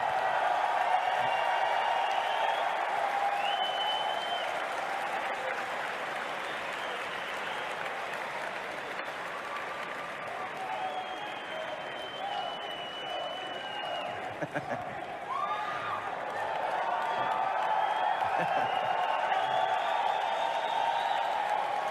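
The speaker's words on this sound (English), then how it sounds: "Look at it. Everyone's cheering." A large audience applauds and cheers continuously at a steady, fairly loud level, a dense crowd roar that swells slightly near the end, with no one talking over it.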